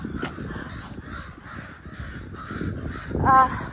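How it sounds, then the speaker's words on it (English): Crows caw outdoors beside a home deck, a series of rough repeated calls at moderate distance with a louder, closer burst near the end over quiet ambient background. "Crows are out."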